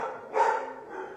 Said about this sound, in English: here goes the dogs barking